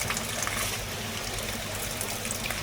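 Backwash water rushing out of a carbon filter tank: a steady, loud gush of flowing water that holds without a break and has no voices over it.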